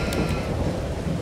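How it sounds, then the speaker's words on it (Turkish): Steady rain hisses down with a low rumble of thunder in the Farming Simulator 22 video game, a short, dense stretch of weather noise without speech. "Yağmur yağıyor, çamurlar insin aşağıda"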